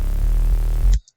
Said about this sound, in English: this is our other bass.